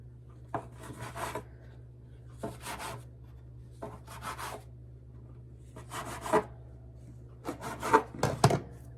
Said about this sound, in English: I like using a bench scraper to cut cinnamon rolls